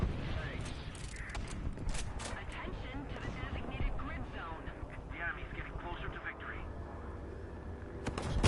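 Anti-aircraft gun in War Thunder firing bursts of rapid shots, dense and continuous over several seconds, with someone talking over the gunfire and aircraft noise in the background.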